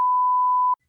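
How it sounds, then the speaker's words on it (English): A single steady censor beep, loud and clean, holding one pure tone for about three-quarters of a second before cutting off into silence. "you want him to beep out your snorting laugh?"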